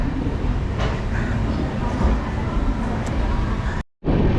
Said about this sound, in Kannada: ಇದು ಕೂಡ ಹೌಡಾ ಮುಂಬೈ ಎಕ್ಸ್ಪ್ರೆಸ್